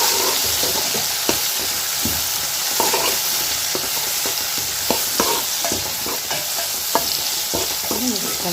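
Tomatoes sautéing in a pan for a tamarind curry give a loud, continuous sizzle, with regular stirring scrapes and taps from a spoon against the pan throughout.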